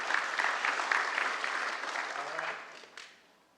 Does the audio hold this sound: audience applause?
yes